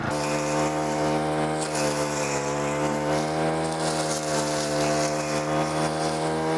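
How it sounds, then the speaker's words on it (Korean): Honda gasoline string trimmer cutting grass and acacia branches outdoors, a loud, continuous high-revving engine whine with strong steady harmonics held close and alone throughout. "휘발유를 넣어서 작동하는 혼다 예초기로도 제가 똑같이 작업을 한번 해볼게요"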